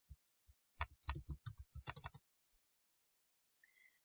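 Keystrokes on a computer keyboard, a burst of quick, close clicks for about two seconds, followed by silence and a faint brief tone near the end.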